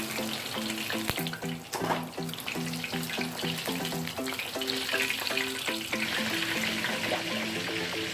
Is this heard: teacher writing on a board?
no